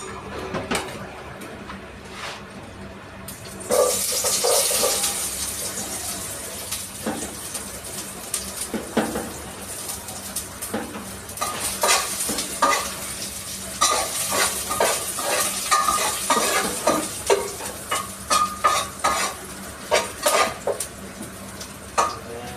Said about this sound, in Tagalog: Ngayon, kumulo na yung mantika.